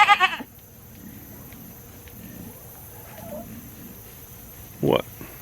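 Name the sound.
goat bleating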